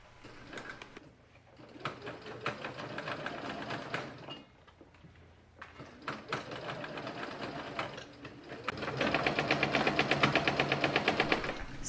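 A sewing machine stitches the bodice of a summer dress to its skirt in steady mechanical runs, briefly stopping and restarting, then running faster and louder toward the end, with no voices.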